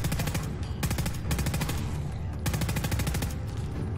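Automatic weapon fire in a Fallout video game crackles in several rapid bursts, each a fast rattling string of shots, with short gaps between bursts, loud and close and without any speech.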